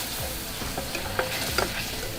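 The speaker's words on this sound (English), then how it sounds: "I'm just gonna add a little bit at a time, and I'm gonna stir" Milk being stirred a little at a time into a mac and cheese sauce in a pan, soft scraping and liquid stirring with a faint sizzle and a few small clinks, steady and close.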